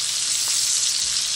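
Asparagus sautéing with garlic in hot oil, a loud, close, continuous hiss and crackle of frying without pause.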